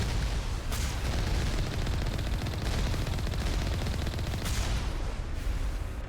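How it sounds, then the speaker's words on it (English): A moving turret fires on the Mako armored vehicle in the Mass Effect game, a dense, continuous barrage of gunfire and blasts that fills the whole stretch, loud and unbroken with a few sharper bursts. "That's a moving turret."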